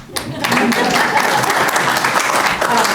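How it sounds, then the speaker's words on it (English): Audience members at a town council meeting in Wytheville clap together in a steady burst of applause, with some voices mixed under the clapping. "y'all can clap."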